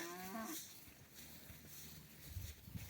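Cattle on a mountain pasture in Altai: a single short moo opens, fairly faint, followed by quiet open-air ambience with soft low rustles.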